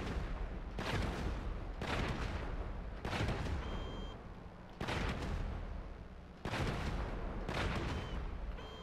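Weapon fire from the laser-armed truck in GTA V Online: loud, harsh bursts roughly once a second, each a dense full-range blast with a short decay, repeating steadily and closely with no talking between them.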